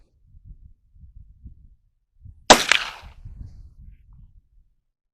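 A muzzleloader rifle fires once at an outdoor shooting range: one sharp, loud blast with a short ringing decay, set between stretches of quiet low rumble.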